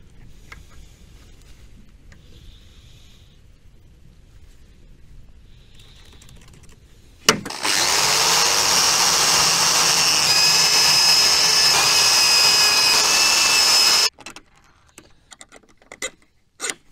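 An electric drill boring screw holes while building a homemade garden solar power unit runs loud and steady for about seven seconds, its whine rising in pitch, with quiet handling noises before and a few sharp clicks after.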